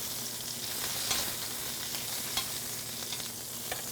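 Braciole searing in a pan hisses with a soft, even sizzle, fairly quiet and close, broken by a few faint scrapes or pops and no speech.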